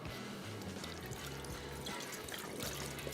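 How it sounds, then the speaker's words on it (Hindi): Vinegar poured from a container for Turkish pickle, a steady close trickle of liquid running continuously with a low background hum and no talk over it. "तो सबसे पहले काम ये करेंगे कि यहाँ पे ले लेंगे सिरका"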